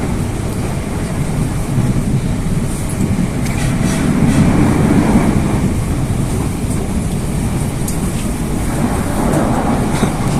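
Steady, loud rumbling and rattling inside a Chinese-made commuter train running between Duren Kalibata and Bogor stations, a continuous drone with faint clicking rail noise throughout and no talking.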